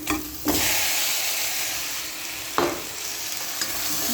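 Meat frying loudly with ginger, garlic and whole hard spices, a dense continuous sizzle broken by a couple of sharp stirring scrapes close by, with nobody speaking.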